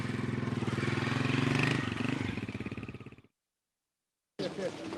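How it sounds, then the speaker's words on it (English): A motorcycle roars past close by, its engine loud and steady for about three seconds before fading sharply, followed by a brief silence and then renewed rumbling noise. "Big time motorcycle coming through."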